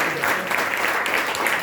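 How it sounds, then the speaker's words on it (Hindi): A congregation at a Friday night church service gives loud, vigorous applause, a short dense burst of clapping from a crowded room. "आइए जोरदार तालियां खुदा के लिए"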